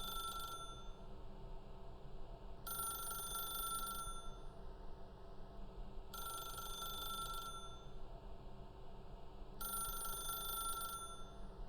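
A telephone rings in The Stanley Parable video game, three evenly spaced bursts of bright electronic ringing separated by pauses over a low steady hum.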